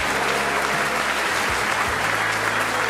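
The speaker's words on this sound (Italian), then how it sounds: "un applauso al nostro direttore artistico per il suo" Dense, steady applause from a theatre audience at a Sicilian stage comedy, loud and continuous with no voices.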